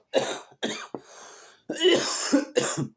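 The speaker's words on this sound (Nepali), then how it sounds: "खोकी चाहिँ लागिरह।" A run of harsh, throaty coughs in quick succession, close by, with a short raspy breath between bursts.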